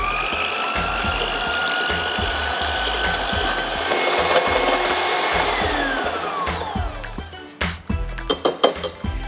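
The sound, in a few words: whisking egg whites to stiff peaks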